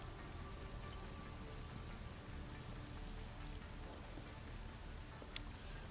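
Steady rain keeps falling in the video game Deus Ex: Mankind Divided, a dense, constant patter of drops with no talk, faint and unbroken throughout.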